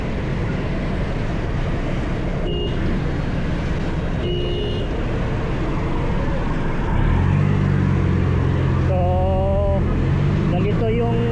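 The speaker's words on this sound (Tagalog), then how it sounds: "Grabe yung traffic po dito." Road traffic near Bunawan with tricycles and passing vehicles: a steady engine rumble throughout, a heavier low motor drone swelling in from the middle, and short horn-like tones near the end, close and continuous.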